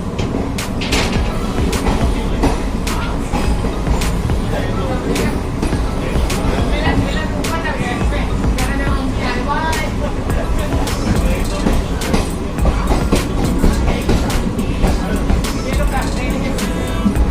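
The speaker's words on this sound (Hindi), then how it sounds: "हमारी ट्रेन इस समय कन्नौज से निकल चुकी है और काफ़ी जल्दी इसने स्पीड भी पकड़ ली है।" A passenger train running at speed after leaving Kannauj on the Lucknow to Jaipur route, with steady loud rumble and rhythmic clickety-clack of wheels over rail joints heard from inside the coach throughout.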